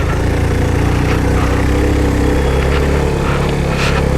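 Motorcycle engine runs loudly and steadily at close range on a forest road, a constant low droning rumble with wind noise and no clear changes in speed.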